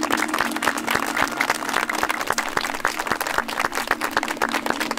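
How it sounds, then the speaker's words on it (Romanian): Wedding guests at an outdoor religious ceremony applaud loudly, with crisp, rapid handclaps from a fairly close group forming a steady rhythmic patter throughout. "Să aplaudăm tare"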